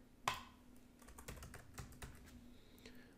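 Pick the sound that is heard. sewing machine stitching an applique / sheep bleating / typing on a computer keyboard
typing on a computer keyboard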